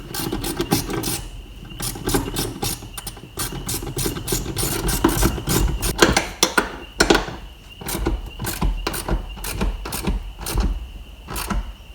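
A ratchet and socket tighten a bolt on an HSV Maloo under rebuild, giving rapid close clicking bursts with scraping and knocks, the strokes repeating irregularly and loudly with no talk.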